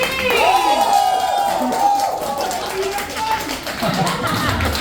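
A crowd at a team parlor game contest claps and cheers loudly, competing to be loudest for a point, with shouting and whoops over a steady din of applause.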